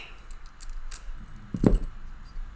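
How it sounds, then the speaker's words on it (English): Keys to a Master Lock M15 padlock jangle in one short, close metallic burst as they are fumbled in the hand, rising out of a quiet room. "so fumbling with the keys"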